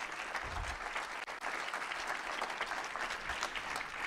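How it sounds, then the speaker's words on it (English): An audience gives a steady, dense round of applause for students at a teaching program presentation, many hands clapping continuously at moderate distance with no pauses. "I think we should lighten the air by giving our brave students a round of applause"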